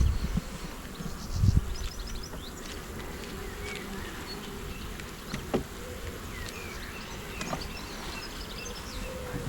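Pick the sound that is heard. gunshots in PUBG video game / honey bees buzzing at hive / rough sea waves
honey bees buzzing at hive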